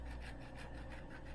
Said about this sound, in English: Don't get the white part in here, but just zest